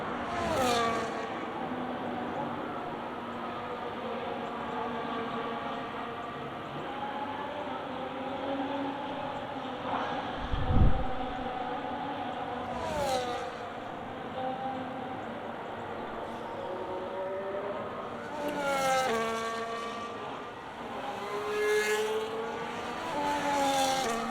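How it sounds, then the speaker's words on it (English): Race cars in a racing video game drive around a track with whining engines that rise and fall through gear changes, while other cars pass by and one tire skids briefly. "There's a car going slow."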